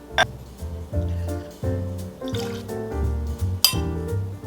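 Deep Eddy's cranberry vodka poured into a cocktail shaker, a gurgling stream of liquid with rising fill tones and a few glassy clinks, close and fairly quiet with no talking.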